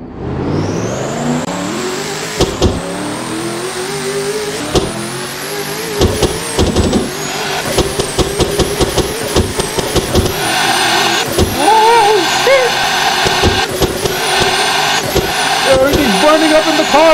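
A 7000-horsepower Camaro in the Assetto Corsa racing game accelerates flat out toward top speed, its engine roaring and climbing through repeated gear shifts, loud and continuous, with a voice talking over it.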